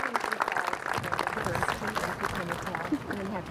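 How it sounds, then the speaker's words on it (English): Wedding ceremony guests give a brief round of applause, soft scattered clapping heard at a distance under a murmur of the room. "And again, we should applaud."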